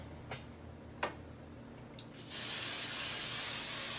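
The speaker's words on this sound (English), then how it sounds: "I spray quite a bit of cooking spray on" A couple of faint clicks, then a loud, steady hiss of cooking spray onto a waffle iron starts and continues close up.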